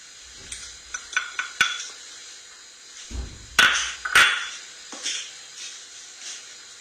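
A spoon stirs sugar into a homemade peda barfi mixture in a bowl, giving scattered scrapes and light metallic clinks with a couple of heavier knocks midway. No one speaks.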